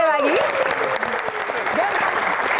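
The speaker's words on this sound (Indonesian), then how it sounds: "Tepuk tangan sekali lagi." A crowd claps loudly and steadily in a dense burst of applause, with a voice calling out over it at the start.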